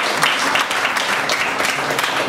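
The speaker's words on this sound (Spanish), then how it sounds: "Aplauso para, por favor, Alejandro Zapata." An audience at a literary poetry reading applauds to welcome a poet, a busy patter of many hands clapping at close range, loud and continuous.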